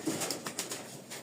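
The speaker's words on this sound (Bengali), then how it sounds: "আরও কবুতর আছে, নামবে কিছু, এই যে নামতেছে" Pigeons in a loft give a few soft, low coos in short repeated pulses, faint and close by.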